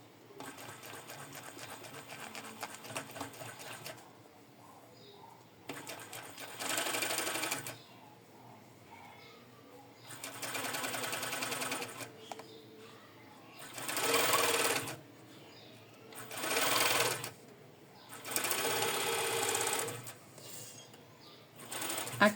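A sewing machine stitches fine bra fabric in repeated loud, rapid whirring bursts of a few seconds each, with quieter handling of the cloth between runs.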